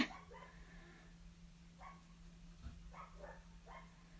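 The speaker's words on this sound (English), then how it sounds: "Sorry if you guys can hear my dog." A dog barks faintly in another room, giving several soft, muffled yips and barks over a low steady hum, with no voices.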